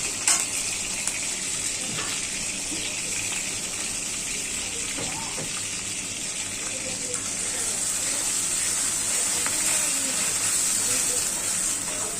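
A spice paste of onion, turmeric, chili, salt and ginger is sautéed in a pan, giving a steady loud frying hiss with occasional scrapes and faint background speech.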